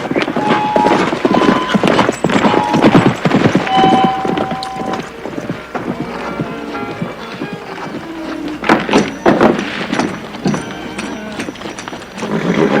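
A buckskin horse's hooves clip-clop in uneven bursts over a busy outdoor scene, with occasional snorts and other thuds mixed in; a voice speaks briefly.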